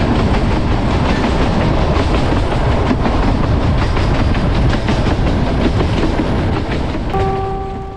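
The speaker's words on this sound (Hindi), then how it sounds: "ट्रेन ने अब फिर से रफ्तार पकड़ ली है" A Kangra Valley narrow-gauge train picks up speed on the rails in Himachal Pradesh, a loud, close, continuous rumble with steady clickety-clack over the joints, then a brief tonal whistle or squeal near the end as the rumble fades slightly.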